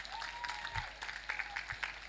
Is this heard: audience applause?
yes